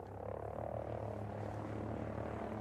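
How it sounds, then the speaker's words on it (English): A helicopter passes overhead during Ghost Recon Breakpoint gameplay, a steady low rotor drone and engine rumble that holds evenly loud throughout. "We got a chopper overhead. Stay low."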